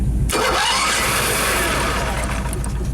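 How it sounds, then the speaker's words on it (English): Motorhome engine with a carburetor cranking over loudly and steadily as it tries to catch, a continuous churning drone that never quite fires into a run. "so cranking it over definitely, I think it wants to start"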